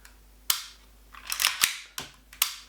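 A Secutor Magna CO2 pistol fires about six quick, sharp pops in an uneven rhythm, close and crisp with short hissing tails, and no voices over them.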